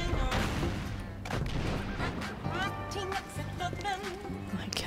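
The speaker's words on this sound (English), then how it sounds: "There's missiles flying around" Missiles streak and explode in a Star Wars Battlefront 2 multiplayer match, a dense, loud barrage of blasts, gunfire and whooshing projectiles layered continuously with no pause.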